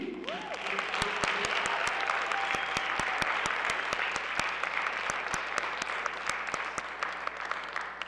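Audience applause and cheering for a comedian being introduced on a comedy stage, steady and dense throughout with sharp individual claps standing out, a brief voice calling out near the start.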